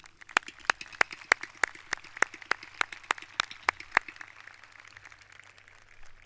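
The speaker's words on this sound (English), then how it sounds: "Let's give them a round of applause." A small graduation audience claps at the Spartanburg High School Class of 2021 commencement: a sparse run of distinct, sharp handclaps in uneven rhythm, fairly close, thinning out toward the end with no talking.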